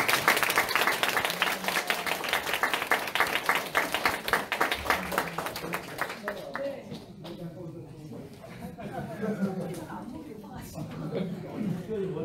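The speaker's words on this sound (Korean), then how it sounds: "박수 부탁드립니다." An audience at a spring academic conference award ceremony claps in a full burst for a plaque presentation, the applause thinning and fading as chatter and voices take over near the end.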